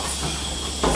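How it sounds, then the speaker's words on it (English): A 100 horsepower steam engine runs slowly in a railroad shop, giving off a steady hiss with low rumbling underneath, which swells slightly louder near the end of the short stretch. "Is the reason it's making as much noise as it is. This is a 100 horsepower steam engine"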